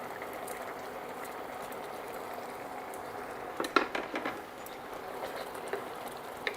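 Fenugreek seeds boil in a pot of water for a traditional Rajasthani papad and methi dana curry, giving a soft, steady bubbling with a cluster of sharper pops and clicks midway.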